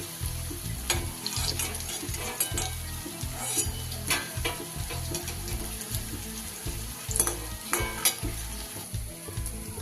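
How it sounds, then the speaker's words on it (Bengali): Papaya koftas fry in hot oil in a wok, with a steady loud sizzle and bursts of crackling, plus occasional scraping and stirring throughout, with no voices. "দেখতেই পাচ্ছেন কোপ্তাগুলো কিন্তু প্রায় আমার সব ভাজা হয়ে এসেছে।"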